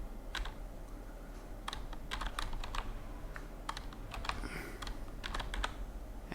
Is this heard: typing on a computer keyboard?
yes